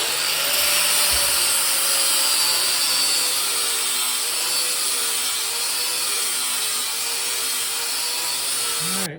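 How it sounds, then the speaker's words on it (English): An angle grinder works the rough edges of two metal chassis link-mount pieces clamped together in a vise. It makes a loud, continuous high-pitched whine that holds steady throughout with no break. "grind the rough edges down"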